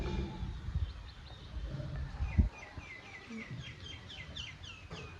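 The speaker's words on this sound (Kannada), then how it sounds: "ಕೇಳಿಸ್ತಿದ್ಯಾ? ಮಾತಾಡ್ತಿದ್ದಾವೆ ಪಕ್ಷಿಗಳು ಅನ್ಸುತ್ತೆ" Small birds chirp repeatedly in the distance in a village, light high calls over a low rumbling machine background with a brief thump partway through.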